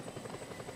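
Helicopter in the video game Just Cause 2, a steady rotor drone with faint rhythmic chopping pulses, low and continuous for under a second with no talk.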